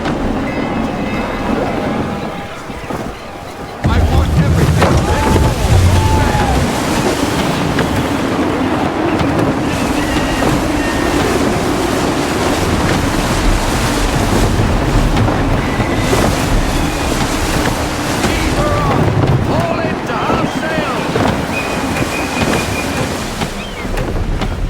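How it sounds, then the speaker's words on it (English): Gusty wind and ocean surf roar steadily while sailing a ship in Assassin's Creed 3, a broad continuous rush with rising gusts, briefly dipping early on before swelling back loud. "Wind looks to be shifting. Stay alert, Connor. Gusty winds can be difficult to manage."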